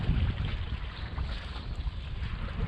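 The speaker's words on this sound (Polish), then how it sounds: "Ale za to wieje." Steady wind buffets the microphone at a fishing spot on the Norwegian coast, a continuous low rumble with broadband hiss and no pauses, and no voices.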